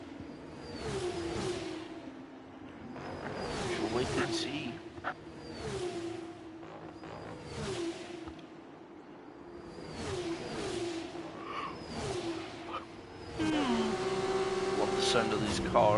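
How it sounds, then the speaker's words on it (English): Formula 2 race cars drive on a circuit during a race, their engines whooshing past in repeated swells under continuous commentary, with a louder, higher-pitched engine tone close by near the end. "Love the sound of these cars."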